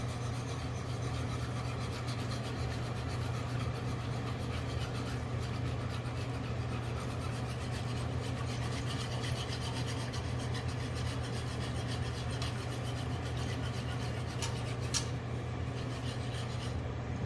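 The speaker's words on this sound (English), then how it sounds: "I'm gonna want to whisk this because I don't want this clumped up in there." A whisk stirs flour into milk in a pot for mushroom mac and cheese, making a steady, continuous scraping rasp at close range over a low hum, with no talking.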